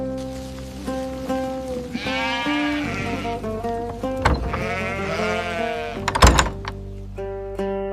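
Sheep and goats bleat repeatedly, several wavering calls overlapping, with a steady background hum and a couple of sharp knocks.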